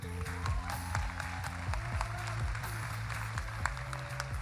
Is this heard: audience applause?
yes